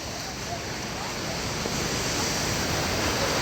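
A steady, broad roar of foaming, rushing river water at the Mallavaram project near Ongole fills the scene, loud and unbroken from start to finish.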